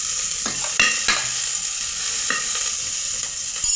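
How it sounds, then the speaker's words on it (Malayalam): Black pepper powder sizzles in a hot pan while a spoon stirs it, producing a steady hiss broken by several sharp scraping clinks of utensil against pan, close up and without talk. "കുരുമുളക് പൊടി ചേർത്തിട്ട് നമ്മളതൊന്ന് ചൂടായിട്ട് അതിന് കുറച്ച് കളർ മാറുന്നത് വരെ നമ്മളൊന്ന് വെയിറ്റ് ചെയ്തിട്ട്"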